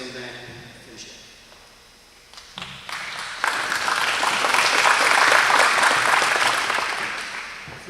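Applause at a 2018 Hall of Fame induction ceremony starts softly, then swells into a full, sustained round from a large audience. A voice is heard before it builds.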